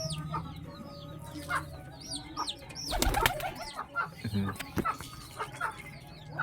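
Domestic pigeons in a loft give soft calls and clucking, with intermittent wing flaps and a burst of flapping in the middle. A person talks faintly in the background.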